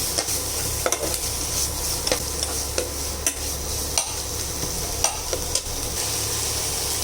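Chopped ginger and green chilli stir-fried in raw mustard oil for a Bengali koi fish curry, loud steady sizzle with repeated scraping spatula strokes against the pan, close up, no talking.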